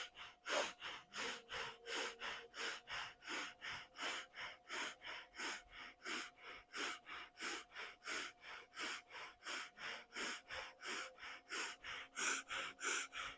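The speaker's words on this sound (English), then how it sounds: "take a deep breath in, exhale, and come back into that breathing" Yogic breathing during a heart-opening yoga practice: a long run of quick, forceful breaths pumped in a steady even rhythm, about two per second, soft and close with no talking.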